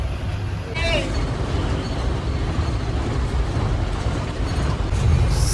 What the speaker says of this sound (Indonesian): bus mulai berangkat dari Joyoboyo, Surabaya.